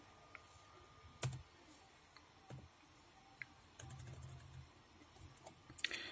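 Password being typed on a computer keyboard in a quiet room, with a few scattered, sparse keystrokes and clicks, one louder tap near the start and a short burst near the end, faint and without talk.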